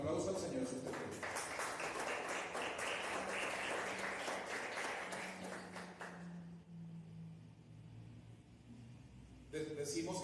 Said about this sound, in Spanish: Dele un gran aplauso al Señor si usted quiere.